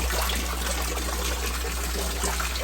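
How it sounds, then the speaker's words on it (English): Water drains out of a crayfish pond through a bell siphon, a steady close trickling and gurgling flow with a low hum underneath, no voices. "So I may release the water from here."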